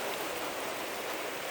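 Steady rain falling outdoors, a dense, even hiss of drops on surfaces that holds constant and fairly loud throughout the short stretch, with no voices.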